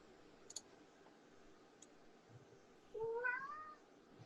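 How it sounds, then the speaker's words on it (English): A cat meows once in a short, clear, rising call, faint and somewhat distant against quiet room tone, with a few small clicks earlier. "That was a cat"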